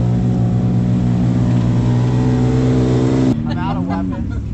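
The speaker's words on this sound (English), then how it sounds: "We got a loud sand car." A loud sand car with a bare, non-powder-coated cage idles and revs at the Red Bull Sand Scramble in Glamis, a deep, rumbling engine drone held close and strong. Near the end it drops off and a voice speaks over it.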